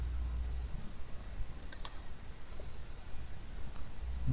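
Sparse, light clicks of a computer keyboard and mouse come in short scattered groups over a faint background hum, with no talking.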